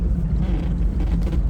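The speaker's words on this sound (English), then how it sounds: "this is the first start out on the lake here, and idling around" A 1991 Sea Ray boat engine idles on a lake at about 750 RPM, giving a steady, loud, low rumbling drone with no break, up close.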